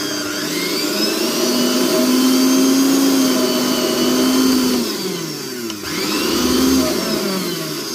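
Loud, close whirring of a mixer grinder running after its screws were tightened to reduce noise, a steady motor drone with a shifting whine that dips briefly near the end and then recovers, with no voices.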